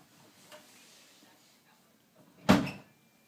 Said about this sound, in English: A drawer.